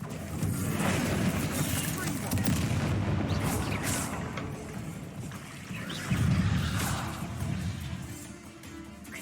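Spell explosions from Confringo and Bombarda in the Hogwarts Legacy video game, a dense run of rumbling booms and blasts that swell around the middle and again near the end, with voiced spell incantations mixed in.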